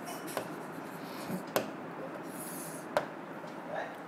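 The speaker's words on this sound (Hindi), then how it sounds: "तो गिवन डेटा मुझे ये साइड में लिखने दीजिए" Quiet handwriting scratches along as the given data for a steel rod problem is noted down, soft and close, broken by a few sharp taps of the pen.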